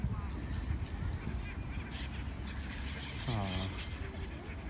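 Ducks and other waterfowl at a lakeside, with hens and little ducklings present, give a brief nasal honking call amid steady outdoor background noise, while a person speaks over it.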